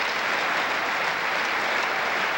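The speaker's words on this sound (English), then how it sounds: "Crowd showing its appreciation for the fine senior" Steady, dense applause from a crowd at a boys' high school gymnastics state final, continuing unbroken after a senior's pommel horse routine, with no talking over it.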